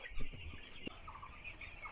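Chickens cluck softly and steadily in a poultry farm shed, a low continuous flock murmur with scattered short calls and one sharp brief knock partway through, no voices.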